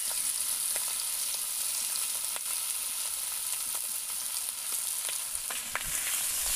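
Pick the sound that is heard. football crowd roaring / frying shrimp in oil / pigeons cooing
frying shrimp in oil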